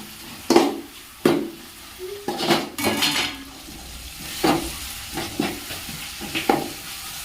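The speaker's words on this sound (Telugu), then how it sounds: "తర్వాత బాగా మిక్స్ చేసుకోవాలి" A spoon stirring a fried paneer biryani mixture with rice and cardamom in a metal pan, sharp clinks and scrapes at irregular intervals over a soft sizzle, close and moderately loud.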